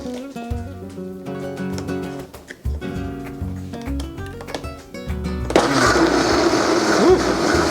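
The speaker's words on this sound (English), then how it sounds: "I'm gonna put it into my blender, and then just blend this up until it's nice and creamy" A blender whirs loudly, pureeing corn soup after music plays, the motor's broadband roar filling the last couple of seconds.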